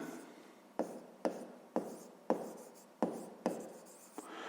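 Handwriting on paper while working a fifth-grade maths exercise, a series of six or seven separate pen strokes each starting with a sharp onset and trailing off in a soft scratchy rasp, close and quiet with no talk.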